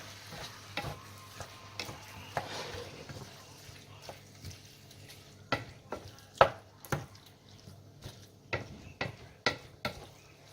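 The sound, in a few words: mixing potato lasagna toppings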